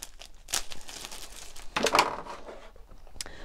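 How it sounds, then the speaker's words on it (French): Crinkling and crumpling of packing material as a mail-order orchid plant package is unwrapped, with several close rustling bursts and a brief tear, fairly quiet overall. "Alors je vais finir de la déballer."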